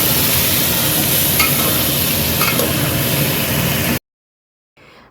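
Mixed vegetables frying in a pan for khichuri, turned over with a spoon, produce a steady loud sizzle with stirring scrapes for about four seconds. Then silence, and a faint sizzle comes back at the end.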